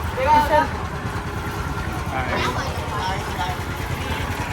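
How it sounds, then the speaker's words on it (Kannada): A tourist boat's engine drones steadily under water noise at a floating market in Pattaya, Thailand, with people talking over it throughout. "ಬೋಟ್ನಲ್ಲಿ ಕೂರಿಸ್ಕೊಂಡು ಕರ್ಕೊಂಡು ಹೋಗ್ತಾ ಇದ್ದಾರೆ ಈಗ"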